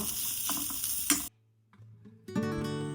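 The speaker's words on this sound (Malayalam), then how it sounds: "അത് കഴിഞ്ഞ് ജീരകം അതിലേക്ക് ചേർക്കുക അതിനുശേഷം തേങ്ങ ചെരുകി വെച്ചത് അതിലേക്ക് ചേർക്കുക നന്നായി ഇളക്കി ഒന്ന് മിക്സ് ചെയ്തെടുക്കുക" Cumin and grated coconut are stirred in a pan for a Kerala-style thoran, giving a crackling sizzle with a sharp clank, then a sudden near-silence before a ringing, tonal burst returns.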